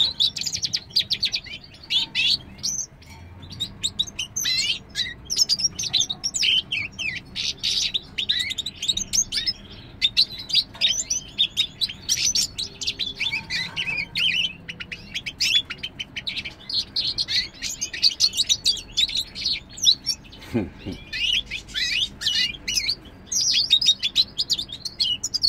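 Recently dewormed goldfinches chirp and twitter continuously in quick, bright bursts, close and fairly soft, with no talk over them.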